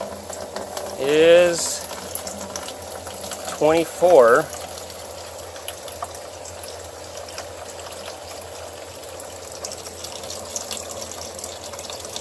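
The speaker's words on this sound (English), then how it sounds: "the pink water coming out of there" Pink geothermal system water bubbling and gushing steadily from a pipe, with a person speaking briefly over the flow.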